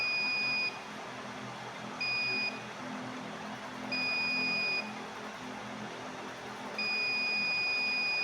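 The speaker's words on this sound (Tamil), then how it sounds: "நம்ம கையை காட்டும்போது நமக்கு பஸ்ஸர் அலாரம் அடிக்கும்." The buzzer alarm on a school-project sensor circuit sounds in four steady electronic beeps of uneven length, separated by pauses, over a quiet room background.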